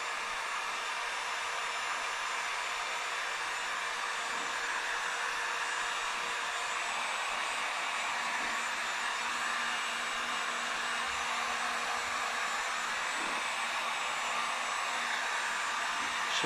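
A handheld heat gun runs on its heat setting while graphics are applied to a bike, giving a steady, loud, unbroken blowing hiss that holds constant throughout with no voices.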